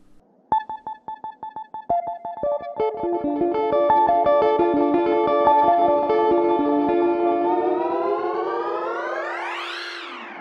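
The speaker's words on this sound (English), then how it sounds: "or perhaps a delay that emulates rain." A Soundpaint delay effect that emulates rain: plucked tones repeat in quickening echoes, swelling into a dense sustained wash that bends upward in pitch before fading, loud and alone with no voices.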